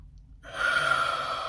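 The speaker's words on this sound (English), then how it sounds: "We're going to inhale." A person takes one deep, audible inhale through the nose during a guided breathing exercise, starting after a short silence and drawing steadily, close and clear.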